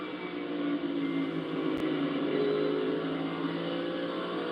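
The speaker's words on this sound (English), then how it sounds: "it sounds like that car is tight, just listening to the throttle" A NASCAR Cup Series race car at Bristol, its engine droning steadily under throttle as a distant, sustained buzz with little change across the few seconds, heard through a broadcast feed.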